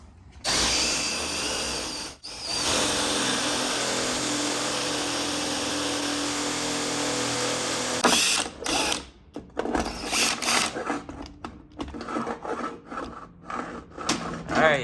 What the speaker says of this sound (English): That's all 5 holes drilled out.